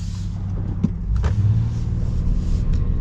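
The V6 engine of a 2025 Honda Ridgeline HPD pickup rumbles and picks up briefly, a low steady drone heard from inside the cab with a few small clicks.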